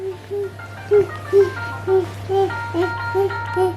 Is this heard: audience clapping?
no